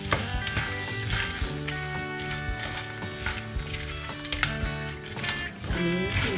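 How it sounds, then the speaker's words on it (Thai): Peanuts roasting with dried chili and lime zest in a pan, a continuous sizzle with scraping and stirring, heard close, with a faint musical backing underneath. "เดี๋ยวจะคั่วต่อไปเรื่อยๆนะครับ"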